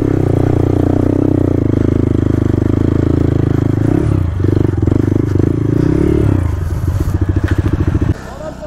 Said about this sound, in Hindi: नाचो कर रही है बाइक,